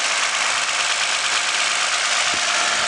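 A Toyota Aurion's 2GR-FE 3.5-litre V6, in a car with a failed transmission, runs steadily close by, a constant loud hissing engine drone with faint knocking and no voices.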